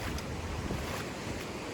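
Ocean surf rolling onto Miramar Beach in Destin, Florida, a steady broadband wash of waves with wind buffeting the microphone, continuous and fairly close, no voices.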